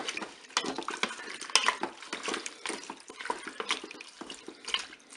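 Ingredients for a blanquette, including white wine and chicken stock, are stirred in a Cookeo pressure cooker pot, giving faint, irregular liquid sloshing and light utensil scraping close by.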